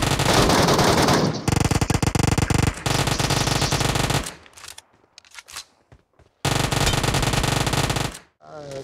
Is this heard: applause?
no